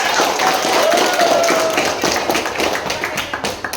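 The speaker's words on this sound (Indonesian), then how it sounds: "Tepuk tangan dulu untuk semuanya" Students at a school outreach session for a vocational high school clap for everyone, a dense, lively round of many hands that stays strong before thinning slightly toward the end.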